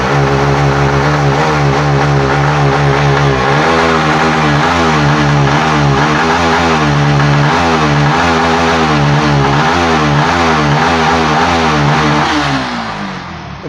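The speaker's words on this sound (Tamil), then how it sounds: "இப்போ ரேஸ் பண்ணுறேன் பாருங்கள்" A Yamaha MT15 motorcycle with a low-pickup fault revs loudly and close by. The engine rises and falls in a steady hum with several throttle blips, then drops back toward idle at the end.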